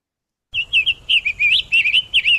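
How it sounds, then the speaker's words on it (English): A summer tanager, an unusual winter visitor, sings a loud, close series of short warbled phrases after a brief silence, with quick slurred notes repeated without pause. "It was a summer tanager, an unusual winter visitor in my area."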